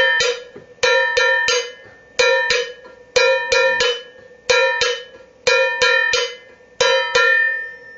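Short, clipped metallic drum strokes played with dead sticking, pressed with a finger to mute them, in quick groups of two and three, each ring cut off fast, repeating in a steady pattern.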